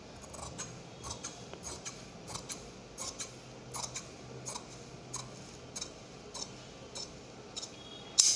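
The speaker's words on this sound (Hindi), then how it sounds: "सामने हुक रखेंगे इसलिए इसको काट के निकाल दे रहे हैं" Scissors trimming fabric from a blouse piece during tailoring: a steady series of small crisp snips and clicks at a moderate rhythm, close and fairly quiet against a faint background hiss.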